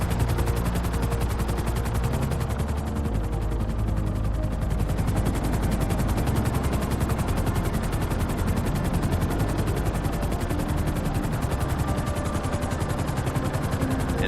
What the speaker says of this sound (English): so I'm going to hop to Trevor and use his helicopter